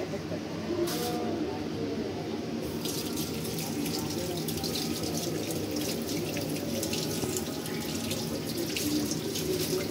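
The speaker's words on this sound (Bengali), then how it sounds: "আস্তে ধুয়ে নেব আগে, ময়লাটা একটু ময়লা আছে, মাটি আছে" A tap runs continuously into a sink while ghatkol leaves, still carrying soil, are rinsed under the stream. The steady splashing and rushing water fills the whole clip at a moderate level.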